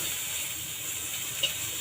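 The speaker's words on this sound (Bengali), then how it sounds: "এই নোনা ইলিশের শুটকিগুলা আমি একটু তেলের মধ্যে ভালো করে নেড়ে চেড়ে ভেজে নিচ্ছি" Salted dried hilsa fish fries in oil with a steady, even sizzling hiss, close and moderately quiet, without talk.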